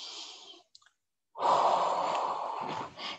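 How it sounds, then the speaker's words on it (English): A slow, audible exhale during a yoga forward fold, close to the mic, preceded by a softer breath and a brief pause, the main breath long and airy before tapering off. "Exhale to fold here."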